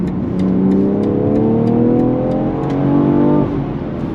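An Alpina BMW drives in Comfort Plus mode, its engine note close and smooth as it pulls in a rising, steady hum with a brief lift in revs before easing off, with no voices over it.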